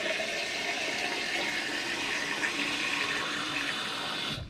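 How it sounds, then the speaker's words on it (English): Tap water runs steadily into a darkroom tray, a continuous rushing pour that stays close and even for several seconds before cutting off at the end, with no speech. "filling this up with water"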